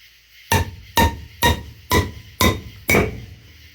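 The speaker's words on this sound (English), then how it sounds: "Hear how the tone changed every time I hit the hammer, hit this with a hammer" Six heavy hammer blows strike a car's metal wheel spindle part at an even pace, each a sharp ringing clang that fades quickly, close and loud with no talking.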